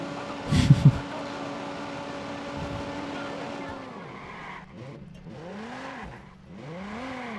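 A car in the Watch Dogs video game skids, with a sharp thump and squeal early on, then engine tones sweep up and down through repeated revving. A voice talks faintly underneath.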